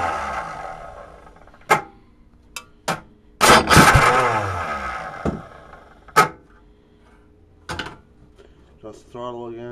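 An engine with no muffler sputters through a cold start in a few sharp, loud pops, then revs briefly in a rough, rising burst before dropping back to uneven bangs, with faint talk nearby.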